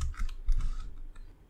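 Keys clatter on a computer keyboard during code entry, a brief run of quick, light clicks at close range with no voice over them.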